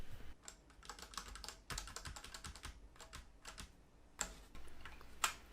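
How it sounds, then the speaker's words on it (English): Plastic keycaps being pried one by one off a Ducky One 2 Mini mechanical keyboard in pure white with a keycap puller, giving a series of sharp close clicks and snaps, some in quick bursts, with short pauses between them. "when you're taking off the keycaps to try to pull as directly straight up as you can"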